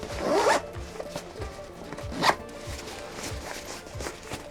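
Zipper on an Able Carry packing cube with three zips, the expansion section's in orange, opened in two quick rasping pulls, the first longer and the second a sharp short burst, with light handling rustle between.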